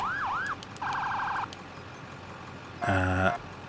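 A fire company brush truck's electronic siren runs through short bursts of different tones: a rising wail, a fast yelp, then a harsh blaring air-horn-like blast, each separated by brief pauses, loud and close.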